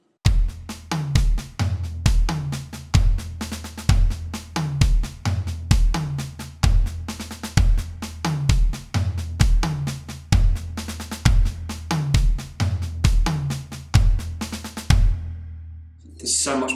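A drum kit plays a slow, repeated fill of double strokes with kick drum accents, the punchy hits and booming kicks falling in a steady looping pattern for about fifteen seconds, loud and close, with no talking.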